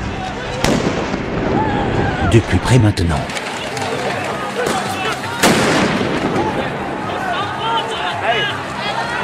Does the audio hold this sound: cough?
no